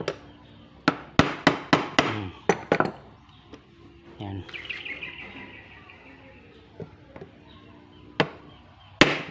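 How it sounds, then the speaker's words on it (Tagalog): Several sharp, ringing strikes in quick succession, a pause with faint rustling, then two more isolated hits; the blows sound close and loud, like a hammer on metal. "Pukpukin na lang ng dito ng martilyo."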